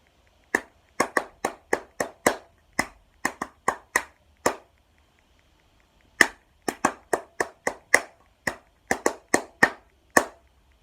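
Crisp hand claps play a rhythmic pattern of quick and spaced beats, then after a short pause the same pattern repeats, close and clear.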